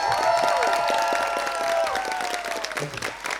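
Dense theatre audience applause, loud and sustained, with crowd noise underneath and a sung or sustained tonal line over it, tapering slightly toward the end.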